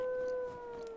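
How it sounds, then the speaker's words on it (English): A wolf howls in the video game Zelda Breath of the Wild, a single sustained tonal wail heard clearly and steadily, gently falling in pitch toward the end. "That's what you get for howling first."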